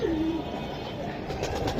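Large pigeons give a soft, brief coo at the start, close by, over a steady background hum.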